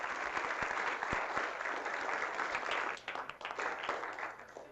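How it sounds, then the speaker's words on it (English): An audience at a conference gathering gives a steady round of applause, many hands clapping together at moderate distance, continuous and then loosening into scattered claps toward the end. "I think we could give a round of applause for Mr."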